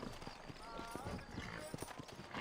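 Horse hooves clip-clop in the Western video game Red Dead Redemption, set in New Austin, with a steady rhythmic trot of soft, muffled hoofbeats under a faint voice.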